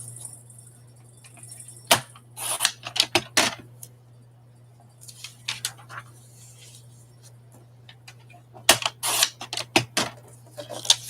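Paper being trimmed for a glue book, giving sharp snips and short crisp cutting bursts in uneven clusters against a steady low hum, close and fairly clear, with no talking.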